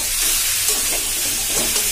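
Chicken mince cooks in a pan with a steady, close, bright sizzle, faint stirring scrapes rising and falling through it.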